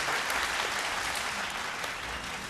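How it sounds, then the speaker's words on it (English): Massive audience applause for sponsors at the EMTV Vocal Fusion Season 5 Top 5 show, a continuous, even roar of clapping that sounds somewhat distant and fairly quiet. "Massive round of applause."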